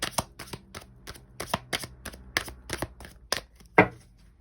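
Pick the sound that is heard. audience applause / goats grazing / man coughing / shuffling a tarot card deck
shuffling a tarot card deck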